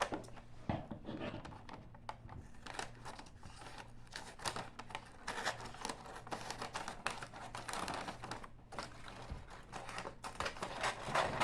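Paper being handled and trimmed for gift wrapping, with rustling crinkles, sharp scissor snips and faint tearing, close and fairly steady throughout, along with a low background hum.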